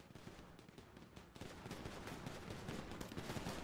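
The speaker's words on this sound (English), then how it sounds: "you guys hear how many shots are going off?" Dense gunfire from a GTA RP shootout at a junkyard, rapid overlapping shots and bursts popping continuously at a moderate distance, growing busier toward the end.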